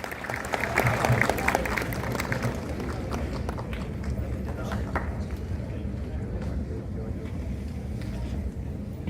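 A national homoeopathic summit audience in Vadodara claps steadily for several seconds, a dense, even patter of applause filling the hall.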